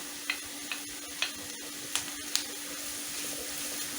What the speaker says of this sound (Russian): И протушу пару минут морковочку с луком.